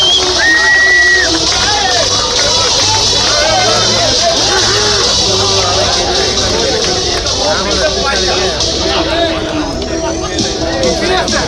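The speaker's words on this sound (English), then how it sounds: "A huge round of applause for Subhash Chandra Bose." A loud crowd cheers and applauds for a player at an inter-batch school football tournament, with dense chatter and shouting blending into a noisy outdoor din, along with whistles and tonal calls.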